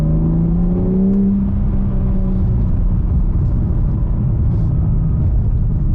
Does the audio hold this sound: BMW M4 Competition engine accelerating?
yes